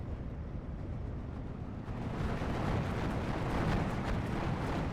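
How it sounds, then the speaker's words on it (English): Mortar barrage in the Steel Division 2 war game, a dense rumbling roar of distant explosions that builds louder after a couple of seconds and keeps rolling without a break. "I have 4 mortars now. Trying to mortar his stuff."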